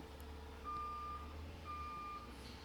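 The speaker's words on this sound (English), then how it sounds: "we got a garbage truck coming by" Repeated high reversing beeps from a garbage truck sound at an even pace over a low engine rumble, somewhat distant.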